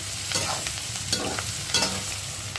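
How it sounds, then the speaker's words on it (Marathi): Onions sautéing in oil with turmeric for chana masala, a constant close sizzle broken by repeated scraping strokes of a spoon stirring the pan, no voices. "याला चांगलं भाजून घेणार आहे आता तेलामध्ये"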